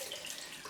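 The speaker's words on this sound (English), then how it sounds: "Cold rinse time." Cold tap water running steadily into a sink for a rinse after a head shave, a continuous close hiss and splash with no voices.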